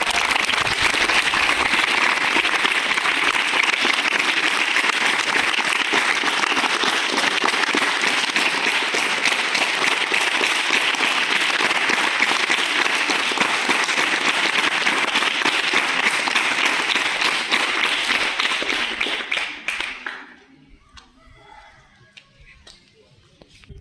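An audience claps loudly and continuously for Jayamma, wife of Mangali Narasayya, for about twenty seconds. Then the applause stops abruptly and leaves near silence.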